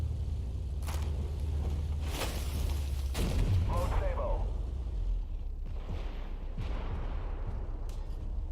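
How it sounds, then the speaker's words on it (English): Armored Warfare tank, the Vickers VFM Mk5, firing AP rounds against an Abrams: several sharp metallic shots and impacts ring out over a constant engine rumble, each one brief and punchy. "I definitely like that steel sound that it makes when you're shooting AP."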